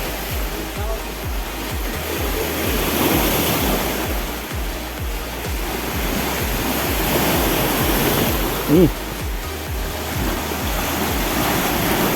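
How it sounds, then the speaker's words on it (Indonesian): Ocean surf breaks along Hukurila beach in a steady broadband roar with wind buffeting, while a person talks faintly under the constant wash of the waves. "Ombaknya luar biasa."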